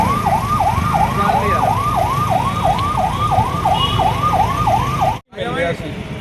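A wailing ambulance siren sweeps up and down in a fast, regular cycle, loud and close over traffic rumble near a school, then cuts out briefly near the end.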